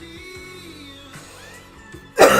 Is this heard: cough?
yes